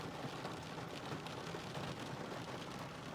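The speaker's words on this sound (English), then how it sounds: "listening to the rain on the roof of the car" Steady rain pouring onto a car roof, heard from inside the car as a dense, even patter that holds constant throughout with no talking.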